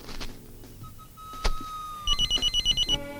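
A telephone in a Malayalam film scene rings in a quick burst of rapid, evenly pulsed electronic trills, close and loud, after a few dull knocks and a steady tone.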